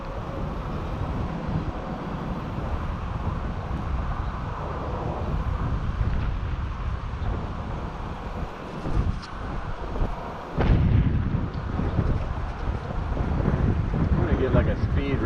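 Strong, steady wind buffeting the microphone in a continuous low rumble, with occasional louder gusts throughout.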